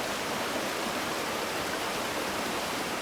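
Steady, dense rush of the Polkovnichy waterfall, a broad continuous roar of falling water heard up close and loud, unbroken by voices.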